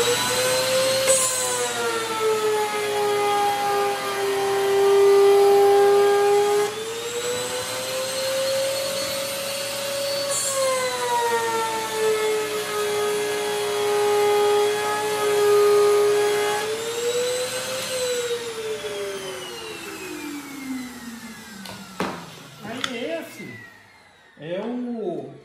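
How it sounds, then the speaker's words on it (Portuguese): A wood router trims the edges of drawer panels cut from an old wardrobe while a shop vacuum extracts the dust. A loud, steady roar carries a whining pitch that rises and falls across several passes, then winds down near the end. "Ligar o aspirador, ligar a tupia."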